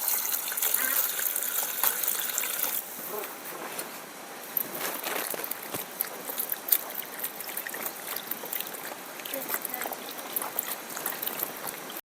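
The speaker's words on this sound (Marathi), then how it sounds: "आता भाजी आहे ना धुवून घेऊ आपण" Water running and splashing while leafy wild vegetables are washed, a continuous gushing hiss with irregular splashes and clatter, close and steady, with a voice talking over it.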